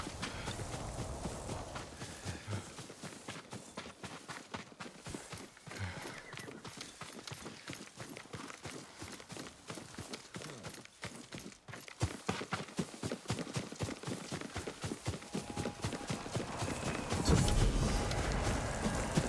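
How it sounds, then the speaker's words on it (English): Horse hooves clip-clop steadily throughout in the video game Ghost of Tsushima, with a whinny and ambient outdoor game sounds, growing slightly louder toward the end. "Yuriko's horse."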